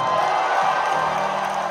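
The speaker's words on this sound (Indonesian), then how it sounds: "Tepuk tangan untuk perusahaan listrik negara" A concert crowd at a show cheers and whoops in a dense, steady roar with applause mixed in, loud and continuous throughout.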